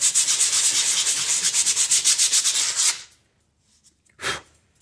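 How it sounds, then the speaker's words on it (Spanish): Crystallized brake pads are sanded by hand with sandpaper in quick, rhythmic back-and-forth scraping strokes, loud and close, stopping abruptly after about three seconds, followed by one more short rub. "estas balatas las voy a tallar bien talladitas con la lija y van a quedar como nuevas otra vez"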